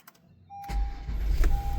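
A 2017 Acura MDX starts up: a steady electronic chime tone sounds, then the engine catches and settles into a loud, close, continuous rumble, with the chime returning briefly near the end.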